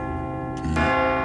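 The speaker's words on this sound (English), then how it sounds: "Every day, right on schedule, Timo rings the bells" Cathedral church bells ringing, a sustained metallic tone with rich, evenly spaced overtones, joined partway through by a fresh louder strike that rings on close and clear with no talk.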